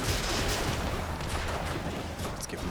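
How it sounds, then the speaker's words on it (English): A roaring explosion in the action video game Hades fills the clip. It gives a dense, sustained blast of noise at moderate loudness with no talk over it. "I almost kicked myself all the way into that explosion"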